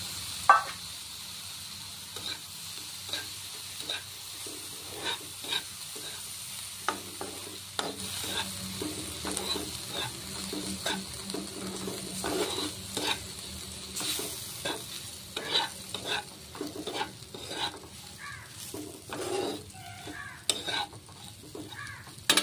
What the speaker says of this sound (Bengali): ভেজে রাখা আমার সুজিটা আমি এর মধ্যে অ্যাড করে দিলাম